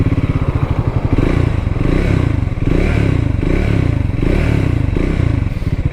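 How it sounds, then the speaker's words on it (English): A Triumph Scrambler 400 XC single-cylinder motorcycle idles loud and close, its engine thumping in a steady rapid pulse with a few light blips and some mechanical clatter, no talk over it. "So let's hear the sound of the bike."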